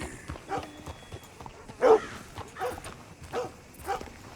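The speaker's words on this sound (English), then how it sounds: "These dogs are going crazy." Several dogs bark in bursts in a Red Dead Redemption 2 town, Rhodes, with sharp yips standing out over ambient game noise and hoofbeats, moderately near and fairly loud.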